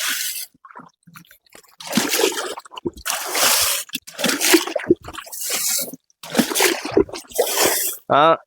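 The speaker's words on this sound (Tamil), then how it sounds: "எப்பவும் தண்ணி எடுத்து இந்த மாதிரி கையில் வச்சு இப்படியே சுற்றி ஊற்றுங்க" Water poured by hand from a bucket around cucumber plants in a farm plot, several bursts of splashing and soaking into soil separated by short pauses, close and fairly loud, with someone talking between pours.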